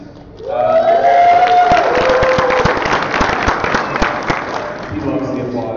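A live audience at the SOE Live fan event bursts into loud applause and cheering. Hands clap steadily for several seconds before fading.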